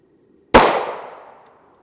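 A single sharp gunshot from a 5.7x28mm pistol with a 5.2-inch barrel, firing a 34-grain PFP Vampire Fang round, cracks loudly up close after near silence and rings out in a decaying tail for about a second.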